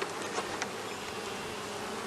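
Honeybees in a backyard hive drone in a dense, steady buzz as the wax-and-propolis-sealed lid is pried open during a spring inspection, loud and close throughout with faint scraping and clicks at the start.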